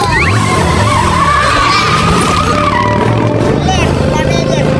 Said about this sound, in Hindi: ड्राइवर्स, इंजन शुरू करो। 3, 2, 1, go!